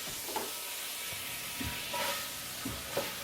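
Onions sizzling in hot oil and butter in a large pan for roast beef make a constant hissing sizzle, with several soft scraping stir strokes rising above it.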